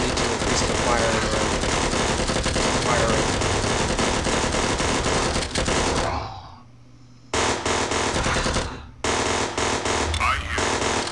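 Automatic gunfire in a video game, dense and loud, with a continuous rattling barrage under shouted voices that briefly cuts out before resuming.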